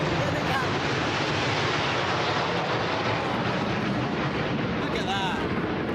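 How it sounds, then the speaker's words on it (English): Aircraft roar overhead during the coronation flypast for King Charles III and Queen Camilla in London, a loud continuous rumble blended with crowd noise and cheering, building and sweeping across throughout. "they can hear the planes coming overhead"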